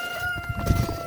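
A hen calls briefly in a quiet setting, sounding like her egg-laying call: a short, fairly loud cluck against a steady background hum, with no talking.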